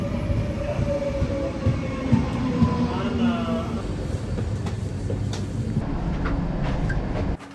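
A train rumbles steadily along its rails with rhythmic clacking and a faint squeal of wheels, heard from inside a carriage on a cross-country trip, loud and continuous.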